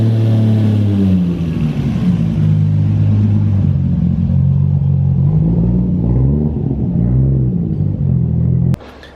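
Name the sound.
Toyota Supra engine running with new fuel system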